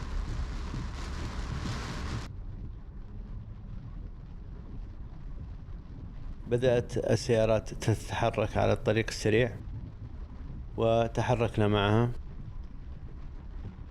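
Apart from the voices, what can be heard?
heavy rain and wind during storm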